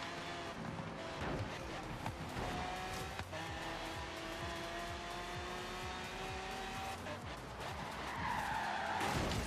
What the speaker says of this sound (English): That's a Mustang.